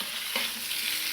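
Food being stirred in a kazan during outdoor plov cooking, a steady close scraping and sizzling of frying ingredients that continues without a break and with no voices.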